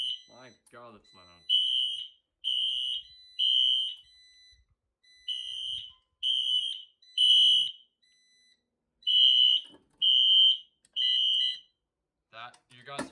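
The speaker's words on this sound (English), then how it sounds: "This is unbelievably loud. This is probably one of my loudest alarms, honestly." A fire alarm system set off from a Gamewell Sentry pull station sounds loud, piercing electronic horn blasts in evenly spaced groups of three, with short gaps between bursts and brief talking at the start and end.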